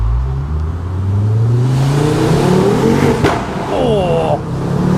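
A Ford Focus RS MK2 fitted with a Milltek exhaust and Wagner intercooler revs hard inside a tunnel, its loud engine note climbing and echoing close by, with voices over the top and a sharp pop near the end.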